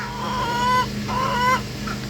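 Agitated backyard chickens during hurricane Milton clean-up give two drawn-out, rising clucking calls close by over a steady low hum.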